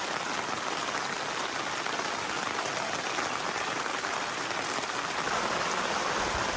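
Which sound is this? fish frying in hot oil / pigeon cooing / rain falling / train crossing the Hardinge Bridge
rain falling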